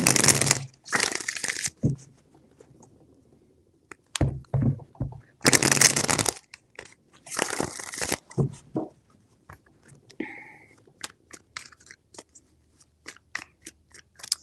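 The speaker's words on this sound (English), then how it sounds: "Three shuffles." Bursts of crisp riffling and slapping as a deck of tarot cards is shuffled several times, broken by short pauses and light tapping sounds.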